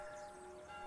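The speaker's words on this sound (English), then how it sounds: "Bells?" Distant church bells ringing near a village, a faint sustained tone over soft background hiss.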